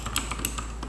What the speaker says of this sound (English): This is the ZQ mechanical keyboard right here.